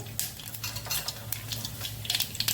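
Cumin seeds crackle and sizzle in hot oil as a tempering for instant semolina vegetable handvo, with short bright bursts of spitting over a steady low kitchen hum, close and moderately loud.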